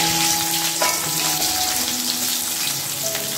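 Chopped onions and a bay leaf fry in hot oil in a pot for chicken biryani, giving a loud, dense, steady sizzle throughout.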